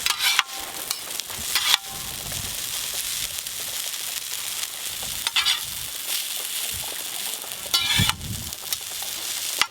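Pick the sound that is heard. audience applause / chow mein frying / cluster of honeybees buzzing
chow mein frying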